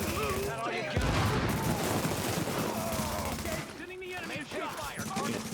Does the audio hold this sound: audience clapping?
no